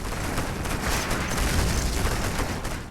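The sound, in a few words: Gatling cannons firing in C&C Generals video game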